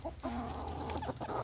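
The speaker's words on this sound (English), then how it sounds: "Next is our chickens." Several farm chickens clucking and murmuring close by, a continuous run of low, throaty calls with no talking.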